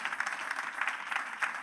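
A church congregation claps for the pastor in a brief, fairly soft burst of many hands, heard at a slight distance and continuing without pause.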